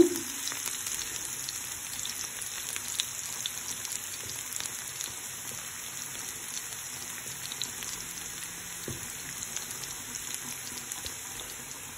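Steady crackling sizzle of spices and curry powder frying in a hot pan for a chickpea dish, with occasional sharper pops and light clinks.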